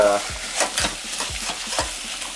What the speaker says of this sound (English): We need to brown this good quality meat.